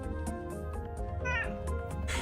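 A pet cat meows loudly several times in quick succession, close up, with a strained, insistent rising call over a steady background hum.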